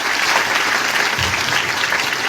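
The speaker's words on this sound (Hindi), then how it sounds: "एक बार जोरदार तालियां वेस्टिज सिस्टम के लिए" Audience at a Vestige motivational event applauding on cue for the company, a loud, continuous wash of many hands clapping close and sustained throughout with no talk over it.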